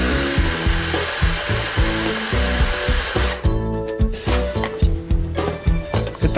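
A kitchen blender whirs steadily as it purées dried apricots soaked in orange juice into a filling, a loud close motor hum that turns rougher and more uneven partway through.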